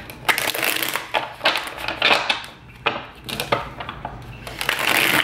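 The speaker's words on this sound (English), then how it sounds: "It's not my cat this time, it's actually my coffee maker." A coffee maker runs nearby, making loud irregular crunching and grinding bursts that rise and fall in quick succession.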